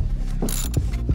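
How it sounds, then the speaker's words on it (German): A wrench ratchets in short clicking bursts while loosening the front brake caliper bolt on a four-stroke scooter, close and brief. "Vorher wird die Bremssattelschraube leicht angelöst,"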